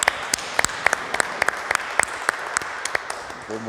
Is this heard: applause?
yes